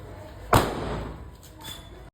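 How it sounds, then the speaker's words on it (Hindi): A single sharp Diwali firecracker bang goes off close by, then a decaying rumble, followed by a fainter second pop. "समीर तो पागल हो रखा है पटाखे बजाने के लिए।"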